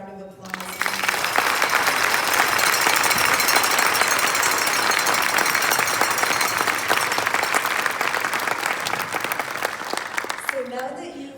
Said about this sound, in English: Let's give these four a round of applause